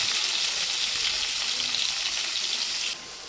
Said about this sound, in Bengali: এখানে 200 গ্রাম পনির ছোট ছোট টুকরো করে কেটে নিয়েছি, এটাকে ভেজে নেব।